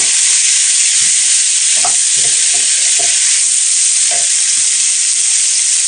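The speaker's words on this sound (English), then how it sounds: "Fry till the onion is translucent." Chopped onion frying in a pan for Punjabi egg curry, a loud, dense, continuous sizzle with a few light knocks of a spoon stirring underneath.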